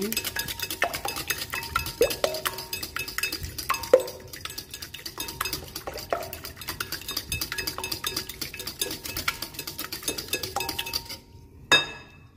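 A whisk clinks steadily against a bowl while eight eggs are beaten for a custard cake, giving a quick metallic tapping that stays even and close, with a few louder knocks and a sharp final clink.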